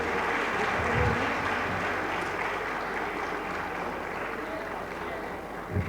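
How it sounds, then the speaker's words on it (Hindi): A crowd at a cultural program in Shravasti gives loud applause to welcome visiting monks from Thailand. The dense clapping runs steadily throughout with little change in level. "जोरदार तालियों से आपका स्वागत"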